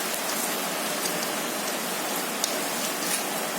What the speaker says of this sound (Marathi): पाऊस जोरातच आहे